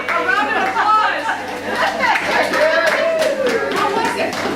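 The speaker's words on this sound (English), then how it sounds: "A round of applause." Applause for a guest on a village tour in Holland, a short round of clapping mixed with cheerful chatter and voices, fairly close and steady for a few seconds.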